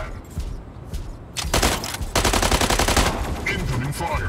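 Rapid mech gunfire erupts in the Mech Arena video game, dense bursts of loud rattling shots with booming impacts repeating over several seconds, close and dominant.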